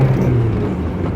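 A Rover 218 car accelerates gently with a steady, loud low engine drone and rumbling road noise heard from inside the cabin, even and unbroken throughout.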